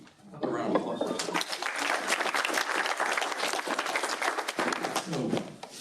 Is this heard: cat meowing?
no